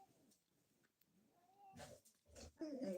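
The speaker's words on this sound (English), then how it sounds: "There go the cats and the dog." Cats squalling outdoors, one of them a female in heat: faint, drawn-out yowls and wails that grow louder and harsher toward the end, heard from some distance.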